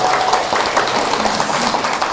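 An audience claps in a dense, steady patter of applause throughout, fairly loud and even.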